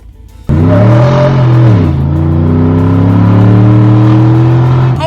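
A Ford Raptor pickup truck's V8 engine roars to life and revs hard, the pitch climbing, dipping, then holding at a loud rumbling idle close by.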